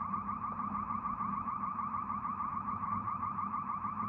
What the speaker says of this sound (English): I think it's just their alarm, because it's gone off like 3 or 4 times by now.